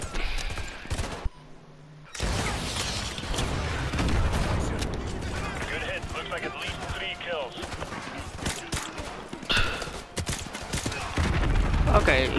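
Bursts of gunfire in the Call of Duty: Modern Warfare 2 campaign crackle and pop amid noisy battle ambience, with rapid volleys and scattered shots over several seconds while voices talk intermittently.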